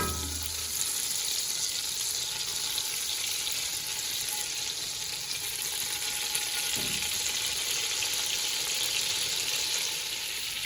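Onion frying in hot oil in a pan for an akhni, a steady loud sizzle that holds evenly throughout, close up, with a brief faint scrape near the end and no talking.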